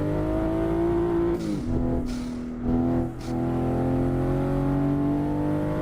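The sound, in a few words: Toyota Supra MK5 engine revving in a driving simulator game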